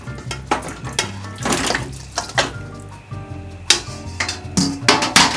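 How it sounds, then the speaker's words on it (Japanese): A pot being washed in a sink under running tap water while making Okinawan soki pork, with irregular splashing and clattering bursts of the pot knocking against the sink, close and fairly loud. "鍋ちょっと洗いますね。"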